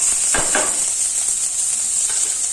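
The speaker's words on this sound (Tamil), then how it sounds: "இப்போ நான் வந்து எண்ணெய் ஊற்றி கடுகு காஞ்ச மிளகாய் இந்த மாதிரி போட்டிருக்கேன்" Steady hiss of mustard seeds and dried chilies sizzling in hot oil, continuous and close, with a couple of soft clinks of a utensil against the pan.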